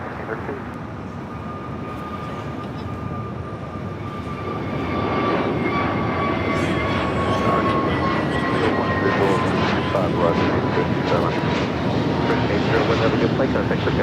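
A fixed-wing airliner taking off from runway 25 right at Los Angeles International Airport, a steady loud engine roar that swells after a few seconds and holds, heard from a distance with a faint tonal whine.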